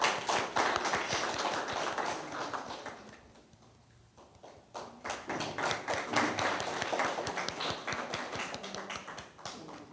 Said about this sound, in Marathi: ताईंसाठी जोरदार टाळ्या वाजवूया